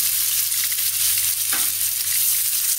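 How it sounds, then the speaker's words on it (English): Mustard seeds crackle and splutter in hot oil, a dense, continuous sizzling hiss with tiny pops throughout, close and steady. "mustard seeds, and let them splutter. You want to hear the sound"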